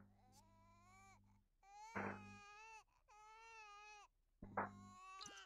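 A baby in The Sims 4 wails in three long, rising and falling cries separated by short pauses, fairly close and clear, with sharp sobbing breaths between them.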